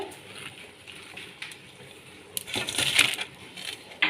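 Fresh spinach leaves drop into a pot of water boiling on a gas stove, giving a rustling crackle that swells into a rushing, bubbling hiss for a second or so before fading. Heard close, with no speech.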